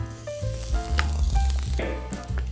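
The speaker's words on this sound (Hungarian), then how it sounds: "a szalonnánk szépen sül" Bacon sizzles in a pan as the first step of lecsó, a steady crackling fry under other kitchen noise, with no talking.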